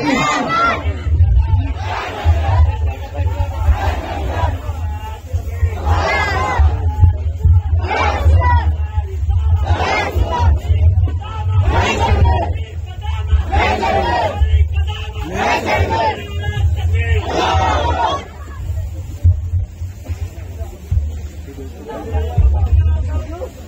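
A large crowd at a Bengali Islamic sermon gathering shouts "Allahu Akbar" in loud, regular chanted bursts answering the takbir call, repeating about every couple of seconds over a steady low hum of the public address system.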